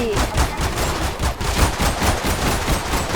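Rapid gunfire in Roblox Zombie Stories during a zombie fight in a research-station lab, a loud, dense stream of automatic shots rattling continuously without pause.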